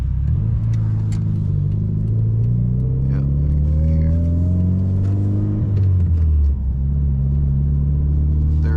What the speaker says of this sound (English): Wait until these cars go by though.